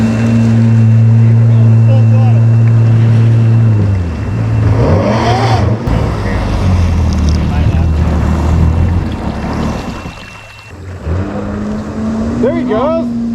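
Yamaha WaveRunner FX jet skis on the Tsala Apopka watershed in Hernando, a steady loud engine drone that shifts pitch as one accelerates hard, mixed with water spray, wind buffeting and people talking nearby.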